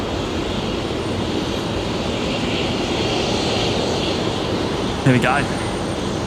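An aircraft on the runway at Brisbane Airport at night, a broad steady engine roar holding for several seconds at moderate distance, with a brief spoken remark near the end.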